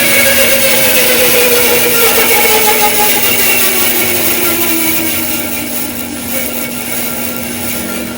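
A Powermatic bandsaw runs steadily and noisily with loose, rattling blade guide bearings, a continuous close grinding whir with a sustained hum that eases slightly toward the end.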